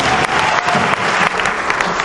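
A church congregation breaks into loud, dense applause, a continuous close wash of clapping from many hands.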